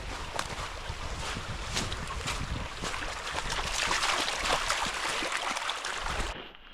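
Steady, dense rush of the White River on Mount Hood, Oregon, in a June snowstorm, a close broadband wash of flowing water with scattered splashy ticks that holds level throughout before cutting off abruptly at the end.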